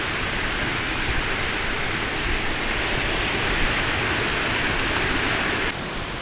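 Lower Calf Creek Falls in Utah pours in a steady, loud, broadband roar that fills the scene alone, with no voices and only a slight dip in level at the very end.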